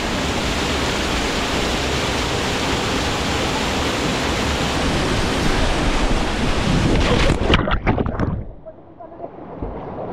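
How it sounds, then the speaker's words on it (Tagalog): Utod Falls in Magallanes, Cavite, a river waterfall, gives a loud, close, continuous rushing roar with wind buffeting the microphone, then cuts off sharply to quiet near the end. "Pag napadaan ka sa gilid ng falls, yung bagsak niya tutulak ka pa gilid."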